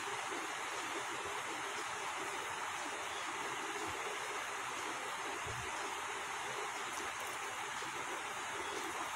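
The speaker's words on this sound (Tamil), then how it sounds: "ஈரல்ல உப்பு சேர்த்து வதக்கும்போது அதுல உள்ள தண்ணி எல்லாம் வெளியில வரும்" Liver sautés with salt in a pan, a dense, steady sizzle and crackle that runs continuously at close range with no talk.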